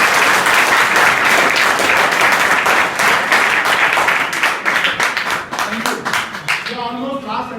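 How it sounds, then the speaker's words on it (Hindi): Loud, dense applause from students at an inter college adolescent education program, a sustained burst of clapping that thins and fades toward the end as a voice begins to speak. "ताली बजाओ जोरदार"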